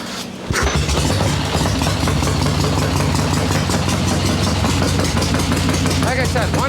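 A swap-meet chopper motorcycle engine fires up with the choke on after a short quiet start, then settles into a loud, steady, rapid-pulsing idle that carries to the end, with a voice briefly audible over it.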